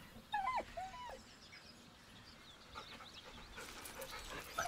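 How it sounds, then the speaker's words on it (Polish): A dog in the Baldur's Gate 3 video game whines faintly in a few soft, high, wavering cries with some breathy panting, heard over quiet game ambience. "With a deep, heartbroken whine, the dog bows."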